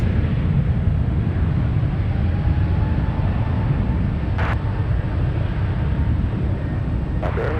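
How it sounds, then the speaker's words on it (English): Alaska Airlines airplane taking off at San Francisco airport, a loud continuous low jet engine roar heard from a distance, steady throughout with a couple of brief sharp bursts overlaid, no voices. "Alaska Airlines taking off."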